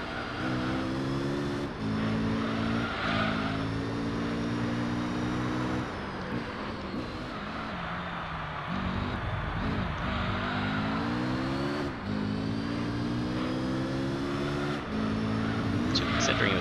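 Race car engine in Gran Turismo 3 on lap five with worn tyres, revving in steady harmonic surges that climb, drop at shifts and rise again while drifting, loud and continuous under someone talking.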